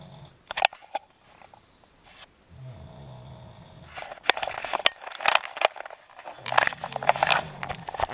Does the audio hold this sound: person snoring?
yes